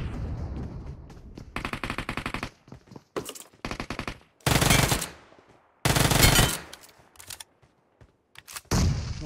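Bursts of Uzi fire from PUBG Mobile: a series of rapid, loud automatic volleys, each lasting about a second, separated by short pauses and quieter shots, with no talking over them.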